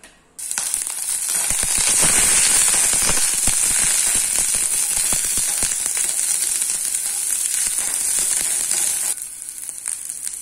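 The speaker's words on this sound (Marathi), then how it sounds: "आणि हे मुळा चिरून घेतलेला आहे, तो ह्याच्यामध्ये घालून आपण जरासा परतून शिजवून घेणार आहोत।" Chopped radish sizzles and crackles steadily in hot oil in a pan over a medium flame, a loud, dense frying hiss that starts abruptly and continues almost unbroken.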